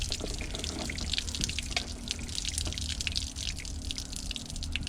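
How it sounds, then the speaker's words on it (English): Water draining from a heavy, water-filled pipe, heard as steady close trickling and splashing with scattered drips throughout, alone without talk. "It's full of water. There's usually a bit in the pipe."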